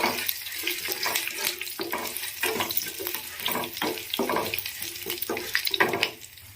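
Garlic cloves and curry leaves fry in hot oil, producing a continuous crackling sizzle broken by repeated bursts of spattering and stirring at a close, moderate level.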